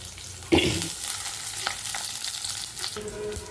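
Mustard seeds, chana dal, fenugreek and onion frying in hot oil in a tempering pan: a loud burst of sizzle as something drops in, then a steady close crackle with occasional stirring scrapes.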